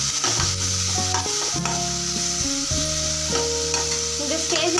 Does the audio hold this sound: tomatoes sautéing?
yes